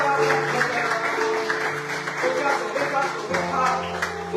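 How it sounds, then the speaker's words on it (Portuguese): A church congregation applauding during a worship service, a steady wash of clapping running throughout beneath singing or voices and sustained music. "Aplauda Jesus. Aplauda."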